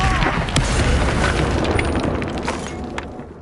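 A Confringo explosion spell blasts in the Hogwarts Legacy video game, a loud, dense boom that holds for over three seconds and then slowly tapers off, with scattered crackling bursts through the roar.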